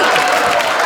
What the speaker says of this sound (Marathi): नको ना टाळ्या देऊ